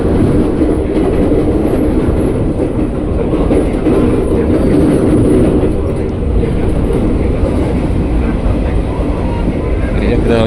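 A loud, steady rumble of a KRL Commuter Line electric train running on an elevated track in Jakarta fills the whole stretch, with rattling and clatter from the cars and a voice speaking over it.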